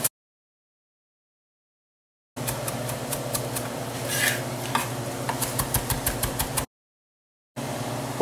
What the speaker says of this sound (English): Fresh basil. We're gonna chop it all up.